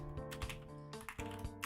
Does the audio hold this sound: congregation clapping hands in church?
no